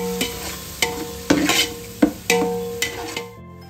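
Ginger-garlic mixture for a chicken dum biryani being stirred in a pan, six sharp scraping strokes about every half second over a soft sizzle, close and clear with no talking.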